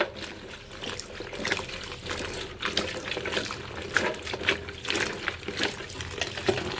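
Water runs and splashes continuously from a tap into a sink while vegetables are washed, with irregular sloshing and trickling bursts close by; no talk.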